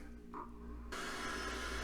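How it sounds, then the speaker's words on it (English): Toto Nexus Washlet+ toilet air dryer switching on after a low hum, then a steady, close, fairly loud whoosh of heated air that continues to the end. "you see there's the little dryer blowing hot air on my hands"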